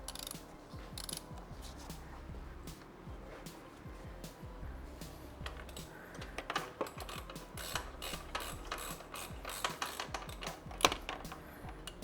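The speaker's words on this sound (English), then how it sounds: "And we'll torque the bottom nut to about 50 Newton meters. This is a 5/8 size socket." A ratchet with a 5/8 socket torquing the bottom nut of an Ohlins TTX shock on a BMW S1000RR motorcycle, with rapid repeated clicking in close bursts that grow louder toward the end.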